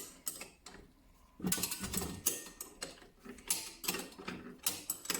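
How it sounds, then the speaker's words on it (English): Wrench unscrewing a size 10 bolt on a Coleman Northstar 2500 propane lantern, a series of close, quiet metallic ratcheting clicks and scraping bursts in uneven rhythm, with brief pauses between turns. "I'm going to start unscrewing this bolt here."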